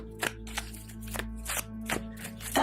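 An oracle card deck is riffled and shuffled in several quick bursts, close and fairly quiet, with short pauses between.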